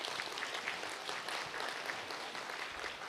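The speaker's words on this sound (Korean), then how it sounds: "박수 한번 쳐드리시죠." Congregation applauding newcomers at a church service, a steady dense wash of clapping throughout, fairly faint and without speech.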